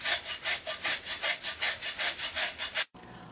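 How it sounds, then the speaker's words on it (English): A whole cucumber being grated into a bowl, about fourteen even rasping strokes in a quick back-and-forth rhythm, close and clear, then an abrupt stop. "I'm just going to grate this entire cucumber"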